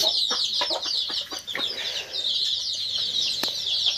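Chickens and young chicks around fifteen days old in a smoke-filled indigenous poultry shed, giving a steady, close chorus of high peeping and clucking with occasional wing flaps, no talking.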